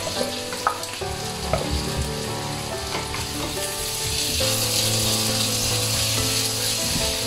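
Onions sauté for prawn upma in a pan, giving a bright, steady sizzle that grows slightly louder over time, with occasional scraping and tapping from stirring.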